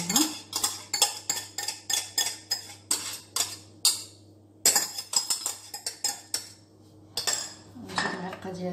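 A spoon spreads génoise cake batter out to the edges of a pan in quick, repeated metallic clinks and scrapes, close and bright, with a few brief pauses and a low steady hum underneath.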